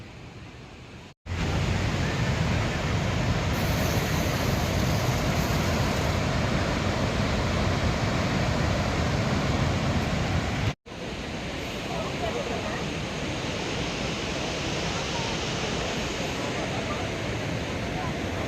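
Barachukki waterfall roars in a steady, loud, broadband rush of falling water during a waterfall festival event, unbroken apart from two brief cuts.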